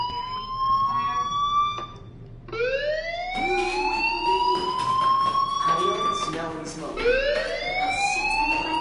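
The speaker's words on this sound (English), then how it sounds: "do you hear that fire alarm? That means you should be outside." A fire alarm in the video game Life is Strange wails in rising, sweeping tones that repeat, loud and close, with game sounds around it.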